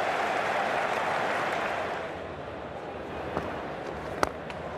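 A massive cricket crowd roars and applauds steadily during a batsman's innings, a broad sustained wash of cheering with a few sharper claps and shouts rising near the end.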